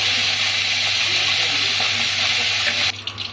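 Loud, steady sizzling of spice paste frying in a pan as water is poured in for Kolkata-style ghugni, a dense continuous hiss that drops off abruptly near the end.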